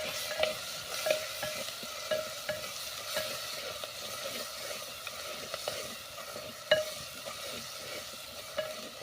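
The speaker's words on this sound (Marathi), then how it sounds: "मिरची चांगली परतून द्यायची" Green chillies sauté in a pan with cinnamon, a continuous soft sizzle running under scattered light taps and stirring scrapes, fairly quiet and close, with no voices.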